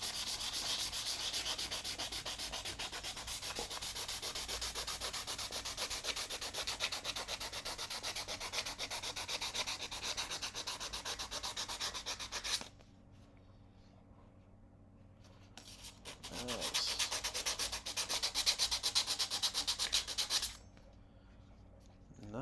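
Steady scratchy sandpaper strokes scrub across a rusty sword blade at close range, running continuously, then pausing briefly before a second burst of rubbing resumes and stops again.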